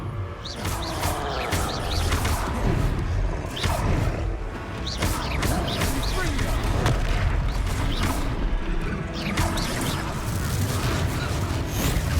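Repeated blasting-spell explosions from the Hogwarts Legacy video game, loud booming hits layered over dense battle noise, clanks and creaks through a troll fight, with a voice briefly heard.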